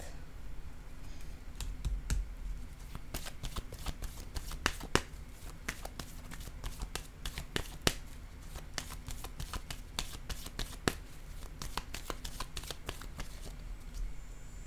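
Tarot cards are handled and drawn from a deck in a quiet room, with a long run of soft, quick flicks and taps, some sharper snaps among them. No voice is heard.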